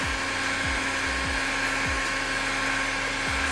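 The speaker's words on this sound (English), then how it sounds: "I'm going to apply a little bit of heat with the heat gun" A heat gun warms the grille badge on a BMW M3 (G80) during a gloss-black CSL-style grille install, giving a steady, loud blowing hum with a constant whine throughout, plus a few faint low thumps.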